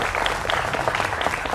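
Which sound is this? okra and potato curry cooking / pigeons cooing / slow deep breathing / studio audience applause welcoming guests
studio audience applause welcoming guests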